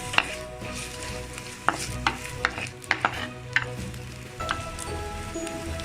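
Continuous sizzling and frying of onions sautéing in a clay pot, with a series of sharp scraping stirs, fairly close and steady throughout.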